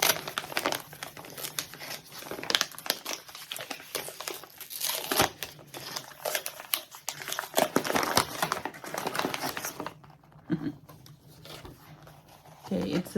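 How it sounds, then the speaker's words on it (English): Crinkly paper packaging on an advent calendar gift box gets rustled and crumpled by hand in a steady burst of near, busy crackling, fading to quieter handling near the end. "So let's rustle the paper."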